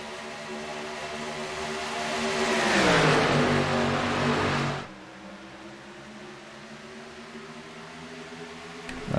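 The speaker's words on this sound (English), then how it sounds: "you see there a little bit of tire spin from all the drivers that are trying to get the throttle down as we are under green here at iRacing Superspeedway" Xfinity race cars accelerate at the green flag on a superspeedway in the iRacing video game, a pack of engines rising in pitch to a loud roar, then dropping abruptly to a lower steady drone.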